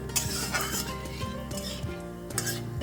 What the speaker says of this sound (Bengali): আমি এখন একটু নেড়ে চেড়ে ফোড়নটাকে একটু লাল করে নিলাম